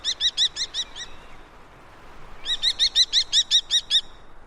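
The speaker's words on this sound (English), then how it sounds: "The sound of a common kestrel." A common kestrel calls in two bursts of rapid, sharp, high-pitched repeated notes separated by a short pause, clear and fairly close.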